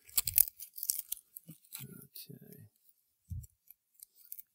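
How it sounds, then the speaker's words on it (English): A Bark River Bravo 2 knife cuts pieces of fatwood in a few short, close crunching and scraping strokes, with sharp clicks between them. "And nothing like a Bravo 2 for cutting some pieces of fat wood."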